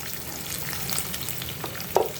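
Diced onion frying in a pan for restaurant-style paneer chilli, with a steady, close sizzle and a brief stirring clatter near the end, with no voices.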